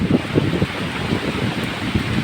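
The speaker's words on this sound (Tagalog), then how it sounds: "Grabe ang lakas na ng hangin no." Strong wind roars steadily into the microphone outdoors by a pig pen with heavy rain, a loud, rushing noise with gusty buffeting and no voices.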